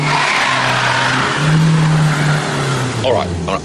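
A Jaguar car on ice with traction control switched off, its engine droning loud and near as the wheels spin, the revs rising briefly before easing off, with a voice speaking at the end.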